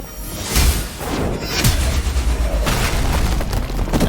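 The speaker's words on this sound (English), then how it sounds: "if I hit him into this, the explosion will catch the other guy" An explosion from the Marvel's Midnight Suns video game erupts as a dense, roaring boom with whooshing debris, sustained and loud across several seconds without speech.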